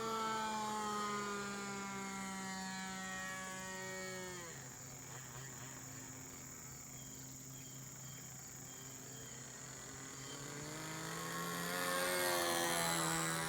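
SH GF6 two-stroke engine spinning a 10x6 propeller on a 20:1 fuel-oil mix: a steady buzzing drone that drops in pitch briefly, holds, then climbs again as the throttle opens, loud and close throughout.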